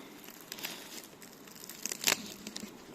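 A beekeeper handles and crinkles a plastic bag used for rearing queen bees, giving faint, close rustles and a brief sharper crackle partway through.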